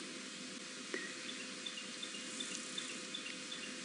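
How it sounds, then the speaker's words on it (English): Stierling's wren-warbler singing in African bush on a warm morning: a faint, high, regularly repeated series of short thin notes far in the background, over a steady soft ambient hiss. "Steeling's wren warbler in the background."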